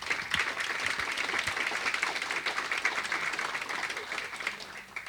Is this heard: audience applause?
yes